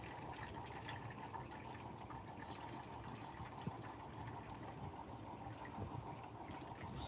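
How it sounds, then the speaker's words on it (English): Water poured into a cooking pot of meat already simmering on the fire, heard as a steady, faint liquid trickle with no breaks for about seven seconds and no talking. "adding some water into our pot, our cooking, our meat that is already on fire"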